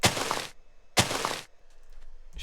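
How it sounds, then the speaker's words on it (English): Two sharp, crunchy breaking bursts, each about half a second long, separated by a brief pause, as cobblestone blocks are smashed in Minecraft. "Breaking cobblestone could be like a kick."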